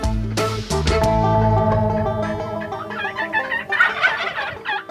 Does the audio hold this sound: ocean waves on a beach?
no